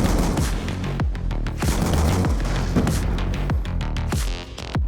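An M1216 shotgun fires rapidly in Black Ops 2, with loud booming blasts in quick succession layered over dense game noise and continuous gunfire.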